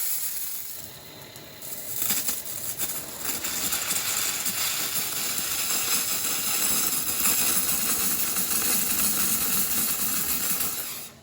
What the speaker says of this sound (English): I got my steamer here. Same steamer as I used in the last video. McCulloch MC1375.